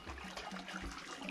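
Natural spring water trickling and splashing steadily at Ogbunike Cave, a continuous close wash of running water with no talking.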